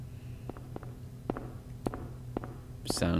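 Muffled footsteps on the far side of a door in the horror video game Silent Hill, a handful of faint, evenly spaced thuds over a low ambient drone, ending in a louder burst of noise.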